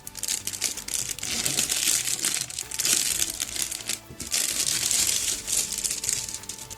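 Plastic bag holding the parts of a Dora Wings Messerschmitt Bf.109 A/B scale model kit being opened, with continuous close, loud crinkling and crumpling of thin plastic across the whole stretch and a brief pause partway through.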